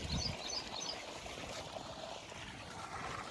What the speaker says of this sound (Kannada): ಸೂರ್ಯಕಾಂತಿಗೆ ನೀರು ಕಟ್ತಾಯಿದ್ದೀವಿ